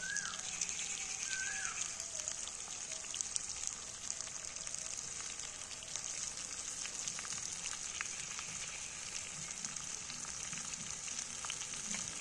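Mango pieces frying in oil for a homemade pickle, a steady, close sizzle and crackle of hot oil that runs without a break, with faint background sounds and no talk.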